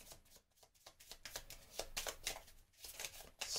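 Cards for the Marvel Champions card game are shuffled by hand in a steady run of crisp riffling bursts, close and fairly quiet, with no talking over them.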